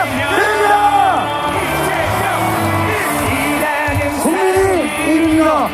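A large crowd at a Democratic Party campaign launch rally for presidential candidate Lee Jae-myung roars, shouts and cheers with applause in a loud, dense wall of sound, voices whooping and rising throughout.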